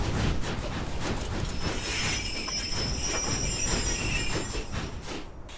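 Train cars roll through an ARK: Survival Evolved game world with a steady rumble, clattering wheels and high metallic squeals over the top, loud and continuous throughout.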